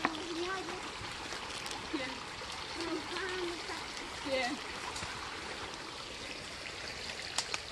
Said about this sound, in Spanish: Marlene ya lavando el arroz